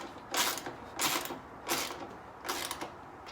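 A nut being tightened onto a car's front fender: four short bursts of ratcheting, clicking mechanical noise at an even rhythm, quiet and close.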